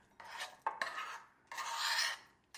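A soggy mixture is stirred in a bowl before going back into the microwave, producing repeated rasping, scraping strokes in close, uneven bursts with short pauses between them.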